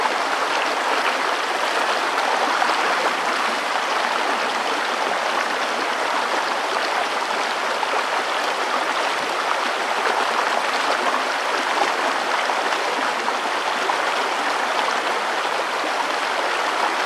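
Steady rushing of a river rapid, broadband churning water flowing continuously at an even, fairly loud level with no voices or breaks.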